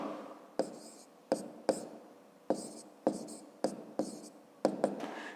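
Close, distinct pen strokes writing numbers by hand on paper during a fifth-grade maths exercise, about eight sharp taps with short scratchy tails, spaced irregularly over several seconds.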